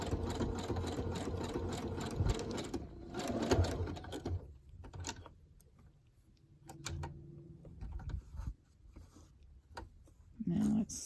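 Sewing machine running a zigzag stitch on fabric, loud and steady for the first few seconds, then pausing into quieter handling sounds and brief bursts of stitching.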